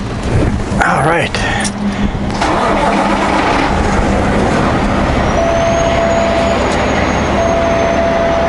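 A truck's engine starts up and settles into a loud, steady rumble that runs continuously up close, with a voice faintly present at times.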